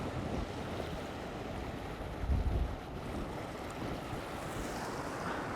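Ocean swell surging over coastal rocks during rock fishing, a steady loud wash of surf and water with a heavier surge building midway, mixed with wind buffeting the microphone.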